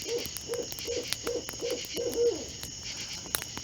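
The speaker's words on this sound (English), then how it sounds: "there was the occasional owl hoot" An owl hoots at night in a steady series of six or seven soft, evenly spaced calls over a constant insect and cricket hum, fairly distant and alone with no voices.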